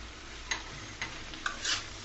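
Egg and onion stalks fry in a pan under a soft continuous sizzle, while a spatula stirs them with four or five light scraping taps spaced about half a second apart.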